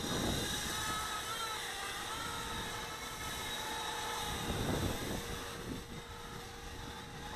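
A Global Drone GW007-1 quadcopter's motors whine steadily at full throttle, a thin buzzing drone that stays fairly faint and even, with wind rushing across the microphone.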